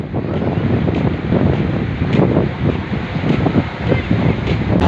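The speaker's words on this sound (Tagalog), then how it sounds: "Alon." Sea waves wash steadily against a rocky shore during an early-morning mussel-gathering outing, with loud, continuous surf and gusty wind buffeting close to the microphone.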